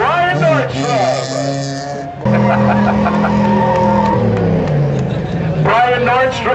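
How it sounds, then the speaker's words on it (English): Race cars, a 1993 Eclipse and a 1990 Plymouth Laser, run loud engines and squeal their tires on a banked circle track, revving in shifting pitches from up close. "Two very similar cars here, the 93 Eclipse and the 90 Plymouth Laser."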